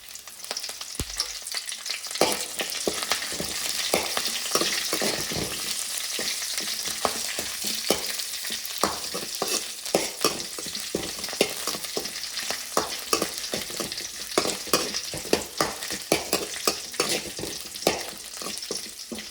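Curry leaves sizzle in hot oil in a pan for coconut chutney, a dense, steady crackle broken by repeated scraping stirs of a spoon, loud and close with no talk.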